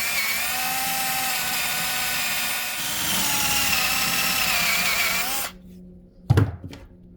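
A power drill drills a hole in a Lexus RX450h hybrid battery tab, its steady high whine running close and loud for several seconds. The motor then cuts off, followed by a brief clatter.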